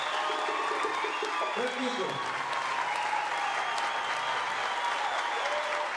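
A crowd of townspeople in Mao applauds at a public apology, a dense, steady wash of clapping that lasts the whole stretch, with a voice briefly speaking over it near the start.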